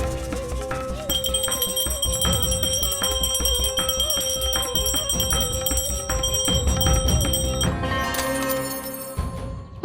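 A household bell rung over and over in a steady, rapid rhythm, its bright metallic tones sustained and layered for several seconds before breaking off near the end, loud and close with no voices.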